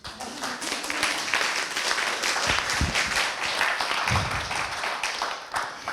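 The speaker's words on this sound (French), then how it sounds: "Vous pouvez les applaudir." An audience applauds at a round-table event on yoga, a steady wash of many hands clapping close by for several seconds with a few louder individual claps and faint voices mixed in.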